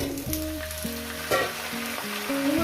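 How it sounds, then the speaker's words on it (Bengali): A pan of fish head with pui shak for chachori fries with a continuous close sizzle and occasional stirring scrapes, with background music playing throughout. "দিয়ে আরও আমি চার পাঁচ মিনিট এটাকে ভাজতে পারি"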